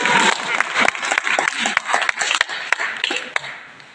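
A crowd claps in a burst of scattered, uneven applause, sharp hand claps popping over a lively murmur.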